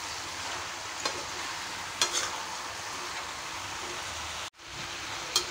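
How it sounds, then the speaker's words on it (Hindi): Pumpkin sabji being stirred with turmeric and red chilli powder in a frying pan at home, a steady soft sizzle with a few scraping stir strokes, a brief cut near the end, no talking. "अब इसको हम अच्छे से चला के ढक देंगे।"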